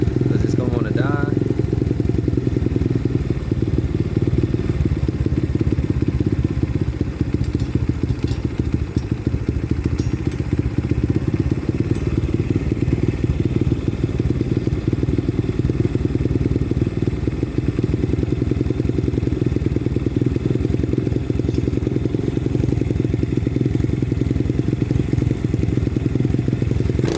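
A 125cc pit bike fitted with a Nibbi Racing 22mm carburetor idles close by, a steady, loud, low engine drone that runs unbroken through the whole stretch.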